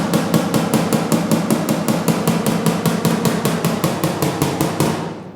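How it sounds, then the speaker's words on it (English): A flat hammer taps a car's steel quarter panel, a Pontiac GTO, in a fast, steady rhythm, over twenty even, ringing strikes close by, continuing without pause before stopping abruptly. "So I'm going to take the flat hammer, I'm going to pull out"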